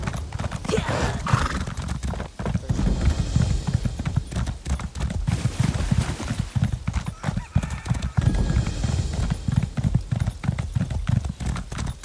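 Rapid, rhythmic hoofbeats of a galloping horse in The Elder Scrolls Online pound continuously and close, with a whinny early on.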